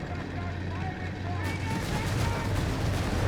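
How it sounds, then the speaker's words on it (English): Breda 20mm autocannons fire in Company of Heroes 3, with a 2v2 battle's distant popping shots and a louder rattling burst rising midway over steady battlefield rumble, under commentary. "engaging there with autocannons. I believe this is Breda 20mm"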